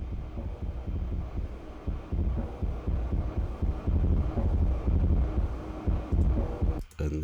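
An old drum beat, filtered and distorted to sound aged and grimy, thumps in a steady, dense pattern throughout, loud and muffled with a smeared low end, cutting out briefly near the end.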